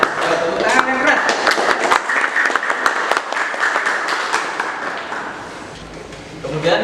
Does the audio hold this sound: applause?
yes